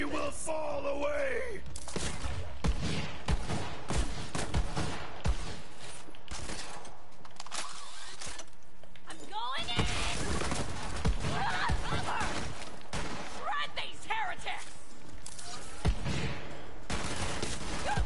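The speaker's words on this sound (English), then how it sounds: "The shooting is so weird." Bursts of gunfire in Borderlands 3, rapid crackling shots in irregular clusters through most of the stretch, mixed with shouts and game voices and loud combat noise.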